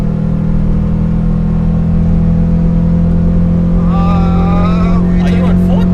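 A 1999 Honda Civic Type R conversion's engine drones steadily from inside the moving car, a loud, continuous hum with people talking over it near the end.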